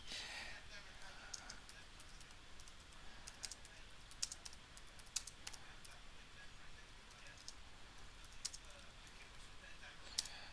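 Someone types on a computer keyboard, with sparse, faint clicks and taps scattered over a steady background hiss.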